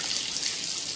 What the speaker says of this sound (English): Water is ejected